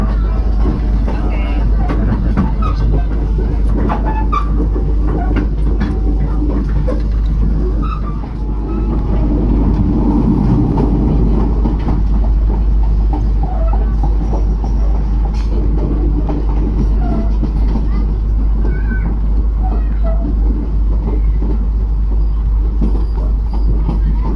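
A Jenggala commuter line train runs on rails in Indonesia: a loud, steady rumble with a constant low drone, heard from on board for the whole stretch, with faint voices over it.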